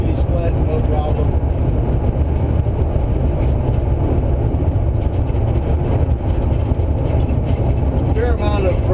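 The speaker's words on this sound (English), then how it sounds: "Fair amount of road noise in this thing." Steady low rumble and hum of road noise inside a moving DIY electric-converted VW Transporter Doka van at about 55 mph, constant and fairly loud throughout with no engine note standing out.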